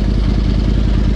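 A 2011 Yamaha R1 sport motorcycle engine runs close by, a loud, steady low rumble with a fast, even pulse and no pauses.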